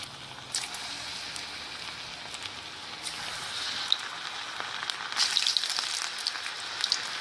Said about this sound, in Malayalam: ഇനി നമുക്കിത് ഫ്രൈ ചെയ്യാം. ഓരോന്നായി ഇട്ട് വേണം ഫ്രൈ ചെയ്യാൻ.